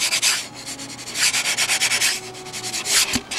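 A model airplane's finish being sanded by hand between coats, a steady run of close, dry rasping strokes in quick back-and-forth rhythm, fairly loud with no voices.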